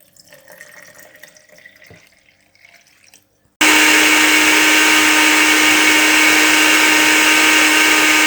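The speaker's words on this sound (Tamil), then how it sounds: "கொஞ்சம் தண்ணி ஊற்றணும்." Water trickles softly into a jar with beetroot, mint, jaggery and honey, then a kitchen blender bursts on at full power, a loud, steady whirring roar that holds to the end.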